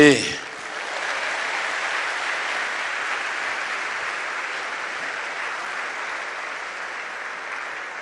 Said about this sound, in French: je demande qu'on l'applaudisse.